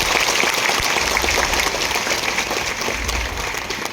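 Sustained audience applause filling an auditorium at an appointment-letter ceremony in Srinagar, Chauras, a dense steady clatter of many hands that holds loud and even throughout, with no voices over it.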